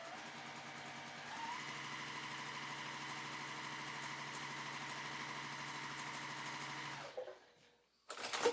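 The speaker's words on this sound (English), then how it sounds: "I will sew a 1/4 inch right down through there" A sewing machine stitches a quarter-inch seam through quilting fabric, a steady fast mechanical whir that runs for about seven seconds, faint and close, then stops, followed by a short handling noise.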